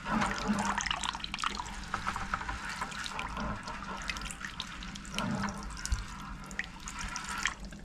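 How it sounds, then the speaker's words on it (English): A squirt bottle sprays water to rinse crushed quartz material in a bucket, giving irregular splashing, trickling and dripping bursts close by and fairly faint, with no talk. "I needed to get my squirt bottle because I can't get that material off."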